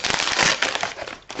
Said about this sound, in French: j'attrape l'arme fatale. Les ciseaux.